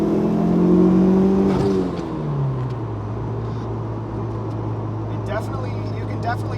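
Engine of a 1990s DSM turbocharged car pulling under boost at part throttle, a loud steady drone whose pitch sweeps up then drops and settles into a lower sustained hum, close and continuous with faint whistling on top.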